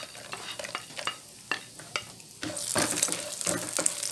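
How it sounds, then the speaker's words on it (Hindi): Almonds and walnuts dry-roasting in a pan, stirred with scraping and rattling clicks that build into a steady rustling sizzle, close and moderately loud with no voices. "बादाम और अखरोट की थोड़ी सी हम बुनाई कर लेंगे।"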